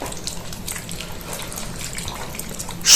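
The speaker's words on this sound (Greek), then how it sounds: "για να διαλύσουμε το προζύμι μέσα στο νερό" Sourdough starter is stirred into water for a traditional Kimolos olive-oil focaccia, giving steady soft sloshing and swirling liquid sounds close by, with no talking.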